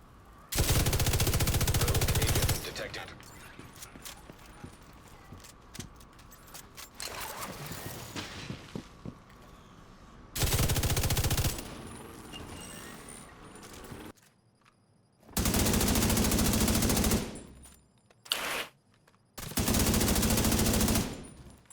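Light machine gun in The Division 2 hammering out several loud sustained bursts of automatic fire, with gaps of quieter battlefield ambience and scattered distant shots between them.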